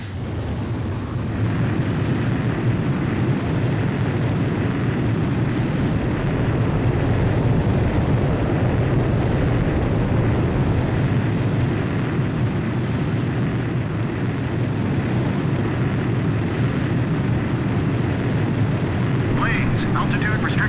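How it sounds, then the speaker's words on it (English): A fighter jet takes off in the video game Ace Combat 5: The Unsung War, a loud, continuous engine roar that swells at the start and holds steady for about twenty seconds. "Blaze, you are cleared for takeoff."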